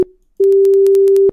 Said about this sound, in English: A simple beep.